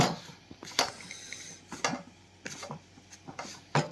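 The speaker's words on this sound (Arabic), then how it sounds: "نقلب السمنة بالكنافة كويس" Ghee being stirred into kunafa dough, with soft scraping and utensil clinks against a pot in several short bursts, close and fairly quiet.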